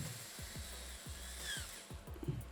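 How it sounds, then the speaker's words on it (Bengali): A Makita 12V cordless drill's chuck is tightened, giving a run of close, evenly spaced ratcheting clicks and thumps, roughly two per second, over a steady low motor hum, with no talking. "আবার এটাকে চাপ দিয়ে ধরবেন হালকা একটু দেখবেন ড্রিল চাকটা সেট হয়ে যাবে"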